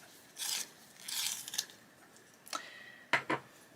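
Turquoise colouring pencil being turned in a small sharpener, several short raspy grinding strokes close by with brief pauses, ending in a couple of sharper clicks.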